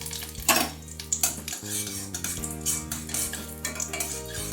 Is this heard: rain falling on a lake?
no